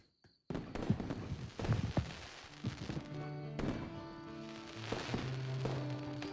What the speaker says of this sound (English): And the summer celebration of all the fireworks.